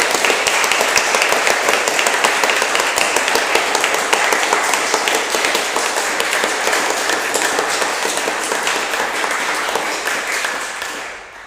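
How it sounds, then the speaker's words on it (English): Sustained audience applause after a performance at an outdoor music event, many hands clapping in a thick, steady roar that holds level for several seconds, then fades out at the end. "Let's give them another round of applause."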